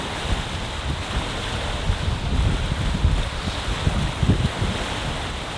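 A sailboat at sea rushes through the wind and waves, with steady wind noise buffeting the microphone and low surges of water washing past, and no voices.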